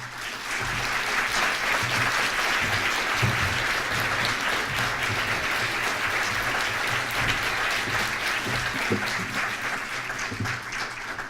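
An audience applauding to welcome Senator Michael S. Sanchez at a 20th anniversary event, sustained dense clapping of a large crowd, loud and even for about eleven seconds.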